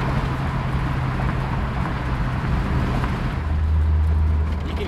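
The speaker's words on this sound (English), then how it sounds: "You can hear this thing idle down very low once it hits that fourth gear." A 1968 Ford Torino with a newly swapped Ford AOD transmission drops to a low, steady idle-like drone in overdrive fourth gear, a deep hum under road noise at cruising speed.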